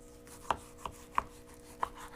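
Knife chops through marbled meat on a board while it is cut into pieces for sausage grinding, four sharp, separate strikes at uneven intervals, close and fairly quiet with no talk.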